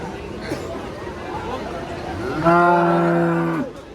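A cow gives one long, loud moo near the end, clear and close, over a busy background of distant crowd chatter at a rainy-season cattle market in Varkhedi.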